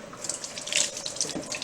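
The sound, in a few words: tap water running over a metal knife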